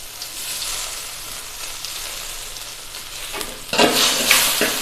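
Ground spice paste drops into hot oil for a rasam tempering and sizzles loudly, a constant frying hiss that flares sharply near the end as the spoon stirs through the pan.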